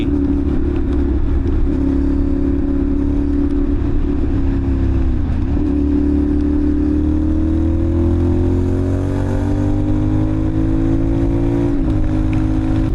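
A 450NK motorcycle engine pulls steadily through the gears while overtaking at speed, loud and close, its droning tone climbing over continuous wind rush.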